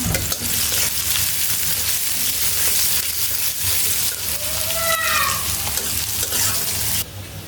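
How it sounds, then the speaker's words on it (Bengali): Chopped onions fry loudly in a pan for basmati biryani, a constant close sizzle broken by stirring scrapes and a few brief squeaky spatula tones. "পেঁয়াজটা একটু লাল লাল করে ভেজে নিই"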